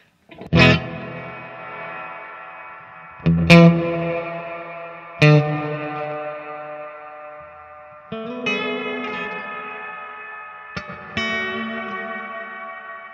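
Guitar chords and notes ring out through a Wampler Reflection reverb pedal with decay at maximum, each attack followed by a long, washy, slowly fading tail that fills the gaps, five or six strums in all, with no voices.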